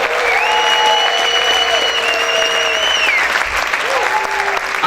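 A church congregation clapping loudly for the Lord, sustained dense applause throughout, with voices shouting and a tonal sung or called line rising over the clapping.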